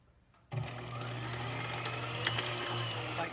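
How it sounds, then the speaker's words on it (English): A sewing machine winds a bobbin: after a brief quiet moment, a steady close-up motor whir starts abruptly and runs evenly to the end. "Hang on to the thread tail tightly and press the foot pedal to wind the bobbin."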